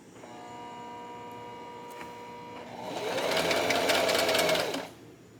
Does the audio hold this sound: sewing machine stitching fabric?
yes